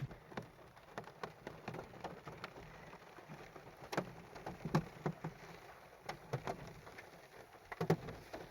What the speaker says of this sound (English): It didn't stop raining.